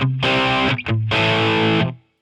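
Electric guitar run through the Amplitube 5 amp simulator with heavy distortion, two thick sustained chords with a short gap between, loud and close, fading out at the end with no talking.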